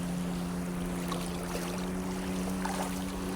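Rough, choppy sea breaking along a rocky shore while shells are gathered, heard as a steady broadband wash of surf and water noise that stays near and constant throughout, with a low hum beneath it.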